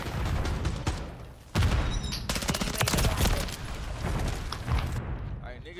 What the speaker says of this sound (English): he's sliding with the damn shotgun